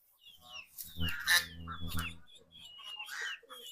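Native Bangladeshi chickens, a rooster and a young chick on a farm, giving close clucks and throaty calls with a few brief cries, moderately loud in a quiet setting.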